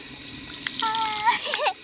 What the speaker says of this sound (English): This is a really cool waterfall.